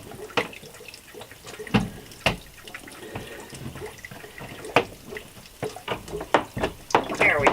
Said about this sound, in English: Now the water will come out a little bit more aggressively.